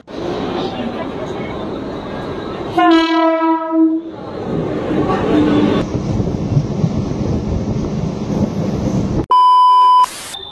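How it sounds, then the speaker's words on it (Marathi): A Mumbai local train to Goregaon rumbles steadily as it arrives at a station, a loud horn blast sounds partway through, and a sharp electronic beeping tone cuts in near the end. "गोरेगावची ट्रेन लागली आहे"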